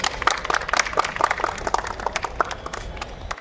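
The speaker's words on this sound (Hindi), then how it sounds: "गर्ग साहब का स्वागत कीजिए तालियों के साथ" An audience applauds to welcome a guest at a public event, with scattered, fairly crisp claps that stay at a moderate level, then thin out toward the end.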